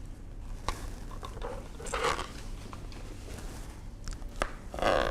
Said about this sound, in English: we'll cut these into little slices, and we can add this to the top of our pizza